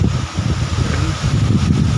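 Steady, heavy wind roars and buffets the microphone with a low, rumbling rush that stays constant throughout, on a hill near Salem, India.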